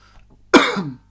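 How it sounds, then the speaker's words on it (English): A single sharp, close cough bursts out loudly and trails off in about half a second, with near silence around it. "I have just actually coughed twice on the video as well"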